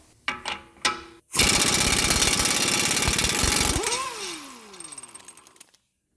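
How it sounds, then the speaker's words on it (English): A 1/2 inch impact gun fitted with a 32 mm socket hammers loudly and rapidly for about two and a half seconds, removing the rear wheel hub nut on a 2012 Fiat 500, then winds down as the nut spins off. "Once you found your 1/2 inch gun, go ahead, put a 32 mil on it and smash that nut off."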